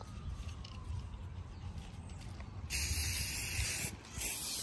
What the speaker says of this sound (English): I'm just using this spray paint